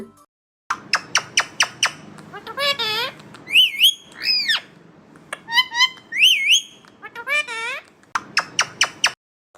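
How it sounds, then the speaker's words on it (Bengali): A parrot squawks and whistles in loud, close bursts: rapid chirp series alternating with swooping whistled calls, in short repeated phrases separated by brief pauses. "টয় টিয়া পাখি"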